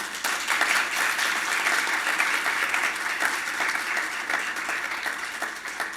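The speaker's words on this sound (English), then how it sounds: "Please give them a round of applause." Steady applause from a conference audience for a panel, many hands clapping continuously throughout at an even, fairly loud level with no talking.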